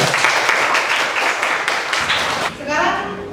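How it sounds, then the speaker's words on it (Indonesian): Brief burst of classroom applause for a student, many hands clapping close and loud for about two and a half seconds, then children's voices chatter as it fades. "Tepuk tangan untuk Fadil."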